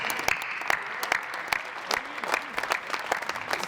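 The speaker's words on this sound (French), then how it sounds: "on vous applaudit bien fort." Audience applause at a catering world cup competition, a moderately distant patter of clapping with sharper individual claps standing out, steady across the whole stretch.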